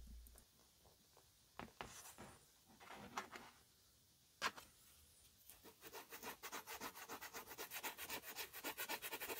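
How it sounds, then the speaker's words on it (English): Fine 1000-grit sandpaper rubbed over a leather Dr. Martens Oxford shoe: scattered soft scrapes at first, then a steady run of quick, close rhythmic rasping strokes growing louder toward the end, with no talking. "we're going to use a smoother grit around 1000 grit to really even out the leather."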